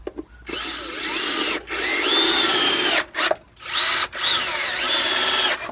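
A power drill drives 3-inch screws through a full-sawn one-inch 1x12 board while building a wooden planter box, with three loud, close whirring runs that rise in pitch, each separated by short pauses.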